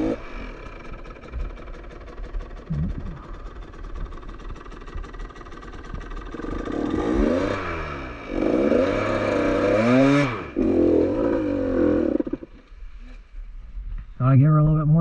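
An ATV engine idles, then revs up in several strong surges on a singletrack trail at Mountain Ridge ATV Park, close and loud, with a voice talking over it early on.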